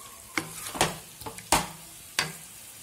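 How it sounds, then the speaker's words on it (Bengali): Spices fried in a pan for a rui fish curry with cauliflower and potato, heard as a steady low sizzle punctuated by four or five sharp scraping stirs spaced about half a second apart. "মশলা ভালোভাবে কষিয়ে নেব।"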